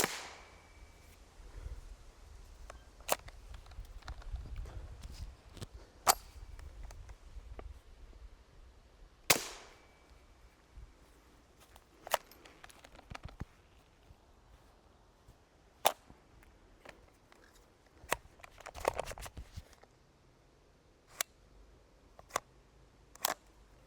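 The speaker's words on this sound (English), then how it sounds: "I was only able to get 3 out of the 5 shots off" Sharp cracks of an HK G36 rifle chambered in .22 LR firing at an outdoor range, a handful of separate shots spread unevenly across the stretch amid quieter handling noise and light background rumble.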